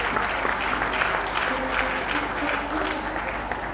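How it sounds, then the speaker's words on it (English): An audience at an Independence Day award ceremony claps steadily, a dense wash of applause from a crowd, loud and continuous with faint voices underneath. "Round of applause, please."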